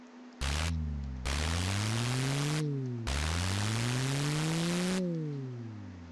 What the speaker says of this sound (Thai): ตอนนี้เสียงจะคล้ายๆเครื่องตัดหญ้านะคะ